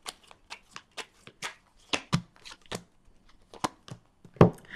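Tarot cards being shuffled by hand, with crisp riffling snaps and flicks in an irregular series of close, distinct bursts and no talk.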